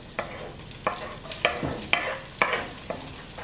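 Onions fry in a pan alongside browned teal duck meat, with a steady sizzle under regular scraping stirs that come roughly every half second.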